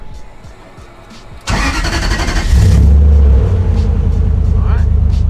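A Toyota 3UZ V8 swapped into a Nissan S14, jump-started with a pack, cranks briefly and then fires up into a loud, steady idle rumble, with a voice talking faintly beforehand.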